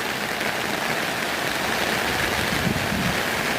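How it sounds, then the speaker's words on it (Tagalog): Heavy rain pours down beside a stream in Tarago, a dense, steady roar of drops and rushing water with no breaks, loud and close. "kusuga yung ulan"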